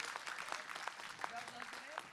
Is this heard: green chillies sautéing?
no